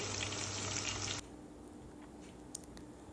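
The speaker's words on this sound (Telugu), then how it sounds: "ఇలా కాకరకాయలు మొత్తం నీట్గా మంచి లోపల నుండి నీట్గా ఫ్రై అయ్యేలాగా చేసుకోవాలి" Bitter gourds frying in a pan, a loud dense sizzle for the first second that drops abruptly to a quieter steady frying hiss with a few faint pops, no talking.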